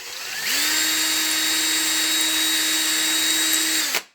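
A power drill reaming out a hole in a 3D-printed part for an RC vibrating roller build, spinning up to a steady, loud, close whine for about three and a half seconds before cutting off abruptly.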